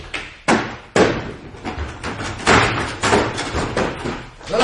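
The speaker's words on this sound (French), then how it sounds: "On va enfoncer la porte" Repeated heavy thumps and slams as a locked door is battered to force it open, about eight loud blows in an irregular rhythm over a few seconds.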